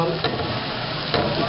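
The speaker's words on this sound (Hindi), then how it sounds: "ये देखें लहसुन डाला हमने, थोड़ा सा चलाया।" Garlic being stirred and fried in a pan while cooking Arabian Bukhari rice with roast chicken: a steady close sizzle with two brief scraping stirs, no talking.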